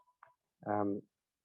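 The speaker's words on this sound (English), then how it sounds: "Sorry about my phone, I should have unplugged it." A landline telephone ringing indoors, one loud electronic ring burst with a buzzy harmonic tone lasting about half a second, preceded by a faint short beep.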